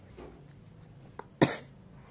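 A single sharp, close cough from a person resting in bed while unwell, preceded by a faint throat sound, in a quiet room with no talk.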